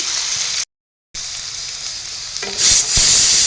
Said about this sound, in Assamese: এতিয়া মই এইখিনি অলপ ৰং চঙা হ'বলৈ দিম পিঁয়াজখিনি